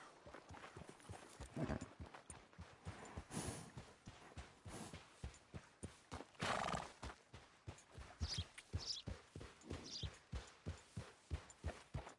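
Hooves clop in a steady rhythm as a horse is ridden in Red Dead Redemption 2, with soft snorts and a faint whinny now and then over the quiet, fairly close footfalls.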